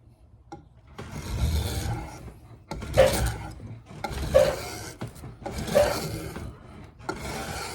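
Hand rasping or filing a wooden guitar neck with a hand tool, in a workshop. Several loud, rough scraping strokes come in a slow, uneven rhythm, each a second or so long with short pauses between them.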